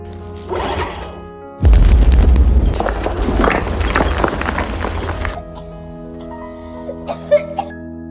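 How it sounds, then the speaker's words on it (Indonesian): A sudden loud boom bursts in and rumbles on with crackling debris for a few seconds, then fades into quieter clatter. "Lalu sebuah ledakan membuat semuanya panik."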